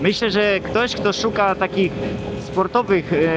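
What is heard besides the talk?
No distinct noise like a dog, phone or traffic.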